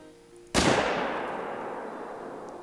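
A single loud rifle gunshot fired at a lion in the hunting game theHunter: Call of the Wild, a sharp close crack followed by a long fading reverberant tail, with nothing else heard.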